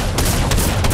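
Rapid bursts of drum shotgun fire in Fortnite, loud and close, three or four blasts packed into a second over dense game noise.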